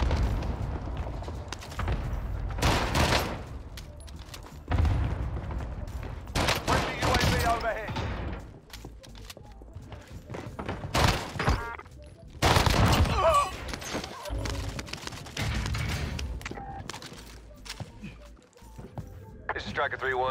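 Rapid bursts of gunfire from Call of Duty Vanguard in Warzone, close and sharp, come in repeated volleys throughout, mixed with game noise while players talk over the action.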